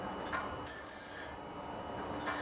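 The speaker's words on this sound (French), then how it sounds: "C'est pour rectifier la meule," A grinding wheel on a blade sharpening machine is dressed with a continuous close abrasive rasping and rubbing, with brief brighter scraping bursts.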